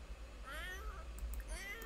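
A cat in The Sims 4 video game gives several short, rising meows in succession, clear and close over a low background hum.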